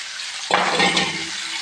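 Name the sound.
frying chilies and ivy gourd for chutney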